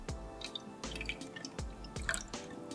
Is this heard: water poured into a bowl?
yes